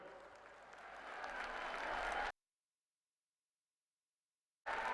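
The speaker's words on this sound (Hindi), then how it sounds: "जोरदार तालियों के साथ आप अभिनंदन करें, स्वागत करें।" Crowd applauding in a pavilion at a political event, a broad even wash of clapping that builds for about two seconds, cuts to silence, then returns briefly at the end.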